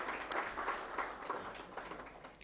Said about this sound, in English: So a huge round of applause for all of the dignitaries here.